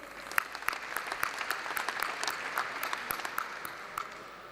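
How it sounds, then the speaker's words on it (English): A crowd of guests applauds donors at a university gala dinner, steady moderate clapping with sharp individual claps standing out, fairly distant and even throughout. "A round of applause to all of our generous donors"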